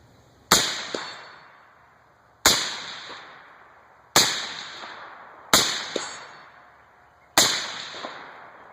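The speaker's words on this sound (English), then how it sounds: "we'll shoot a few shots here, 110 yards" Five sharp suppressed shots from an LR308 rifle fired at a 110-yard target, each a hard crack with a short ringing decay, spaced about one to two seconds apart outdoors, with no talking.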